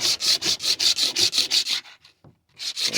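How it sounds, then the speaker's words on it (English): A razor blade scrapes side to side across a wooden cutting board in a steady, rapid rhythm of about a dozen close, loud strokes, then pauses briefly before the scraping resumes. "So it's going to be a razor, side to side"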